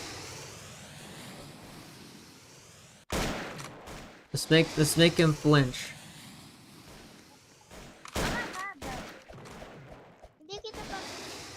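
Video game gunfire bursts in a firefight, with sharp shots around the three-second mark, a rapid volley near five seconds and more shots later, interspersed with players talking.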